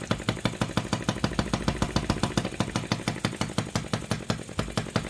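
An OKMO 1110 miniature working replica of a 1950s Japanese engine runs steadily at medium speed, giving off a fast, even train of close, loud firing pulses with a metallic rattle and no voices.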